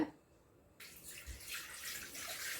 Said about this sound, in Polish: wlewamy wodę